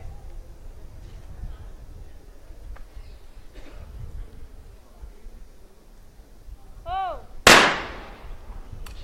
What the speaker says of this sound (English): She's beginning to shoot with a great rhythm